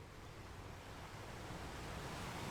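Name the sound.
sea waves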